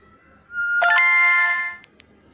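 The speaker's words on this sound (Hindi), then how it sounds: "जैसे ही हम अपना फ़ोन ऑफ़ करके विसिल बजाएंगे तो मेरा फ़ोन आवाज़ करेगा" A whistle-activated phone finder app sounds its alert on a phone: a single bright, ringing electronic chime of about a second, loud and close, then two faint clicks.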